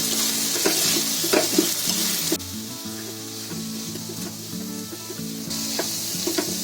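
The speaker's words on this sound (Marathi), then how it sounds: "आता गॅस बारीक करायचा थोडा आणि हे चांगलं ढवळून घ्यायचं" Chicken samosa filling is stirred in a pan over low heat with a strong sizzle and repeated scraping strokes. The hiss drops suddenly partway through, then the stirring continues at a softer, steady level.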